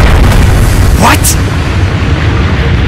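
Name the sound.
bomb explosion in the video game Trails of Cold Steel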